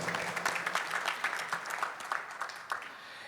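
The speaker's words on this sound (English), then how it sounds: "Can we have a round of applause for that" An audience at a launch event claps in a moderate, fairly quiet round of applause, with distinct individual claps audible throughout.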